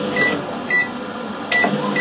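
A microwave oven hums steadily while being tested after a start-button repair, with short brighter bursts at intervals over the continuous drone.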